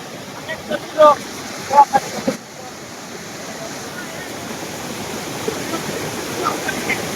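Fast-flowing waterfall water roars in a steady broadband rush, with brief bursts of voices early on before the water continues alone.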